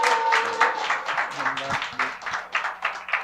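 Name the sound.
church congregation applauding to welcome a missionary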